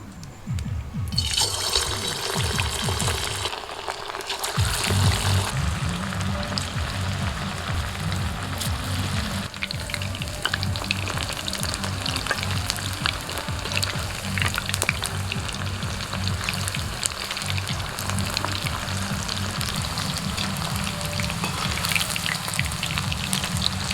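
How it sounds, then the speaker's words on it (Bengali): Chicken pakora frying in hot oil, a steady dense sizzle and crackle that runs close and loud throughout without letup, with no voices over it. "তেলটাও গরম হয়ে গেছে এখন আমি চিকেনগুলো ভেজে নেবো"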